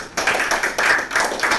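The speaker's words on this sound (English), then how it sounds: "Can you have a round of applause?" Brief burst of audience applause, a dense patter of many hands clapping close by, swelling in short waves over about a second and a half with no voices.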